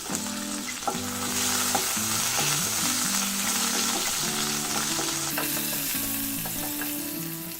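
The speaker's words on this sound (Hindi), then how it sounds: "इसको थोड़ी देर के लिए फ्राई करेंगे।" Green chilies, cumin and whole spices frying in hot oil for a fish head and cabbage dish, a continuous crackling sizzle with light popping, and a pitched musical tone running softly underneath.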